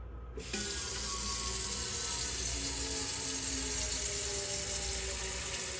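Water gushes from a kitchen tap in a steady, hissing stream after a brief quiet start, running continuously at close range.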